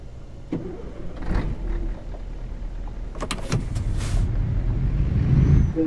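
A Scania truck in Euro Truck Simulator 2 hauls an 11-ton load, its engine rumbling low and steady, with a few sharp clicks and whooshes and the engine swelling louder toward the end.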